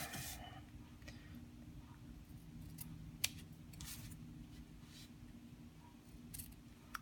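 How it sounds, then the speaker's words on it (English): Ribbon scissors trim the edges of a handmade stamped card in a quiet room, with a few faint snips and one sharp cut standing out over a low steady hum. "we'll take our scissors here, my ribbon scissors, and I'm just going to trim up the edges here"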